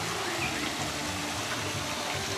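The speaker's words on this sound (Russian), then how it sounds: "Маленький, хилый такой, конечно, водопадик" A small waterfall in the Seaside Park in Varna, Bulgaria, splashes in a steady, continuous rush that stays even and fairly close throughout, with no voices.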